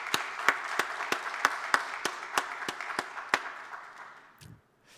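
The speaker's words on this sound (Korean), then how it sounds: "여러분들 박수로 우리 보내도록 하겠습니다." Church congregation at a Sunday morning worship service gives a farewell round of applause: dense, steady clapping from many hands with a few sharp, prominent claps near the front, tapering off and ending abruptly in silence.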